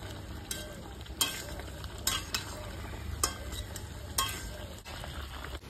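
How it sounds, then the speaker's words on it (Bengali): Ash gourd petha sweet, cooked with cardamom, is stirred in a pan with a steady quiet sizzle and several sharp scrapes and clinks of the spoon against the pan. "এইভাবে কিন্তু নাড়াচাড়া করতে হবে।"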